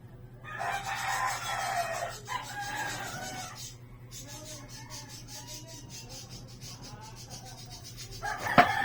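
A Pumpkin Hatch rooster crows loudly and close, a long strained call followed by a second crow and some clucking, with a steady low hum underneath.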